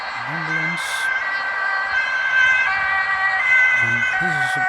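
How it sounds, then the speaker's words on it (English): An ambulance siren wails steadily with rising and falling tones, close and loud over road traffic noise, heard from a bicycle in Houten, Netherlands. "Ambulance."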